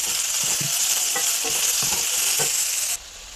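Sliced onions sizzle loudly in hot oil with dried red chilli and cumin, a dense steady frying hiss punctuated by regular scraping stirs of a spoon, with no talk.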